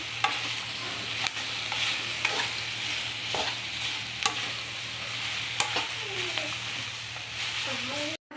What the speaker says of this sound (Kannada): ಇದಕ್ಕೆ ಸ್ವಲ್ಪ ಮೆಣಸಿನ್ಕಾಯಿ ಬಾಡಿಗೆ ಮೆಣಸಿನ್ಕಾಯಿ ಹಾಕ್ಕೊಂಡಿದ್ದೀನಿ ಚೆನ್ನಾಗಿ ಫ್ರೈ ಮಾಡ್ಕೊಳ್ಳೋಣ